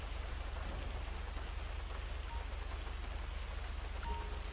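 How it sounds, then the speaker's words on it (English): Steady rain pouring at night in the LSPDFR police game, a dense, constant hiss of drops on surfaces with a low hum underneath, no talking. "Kind of a rainy night out here."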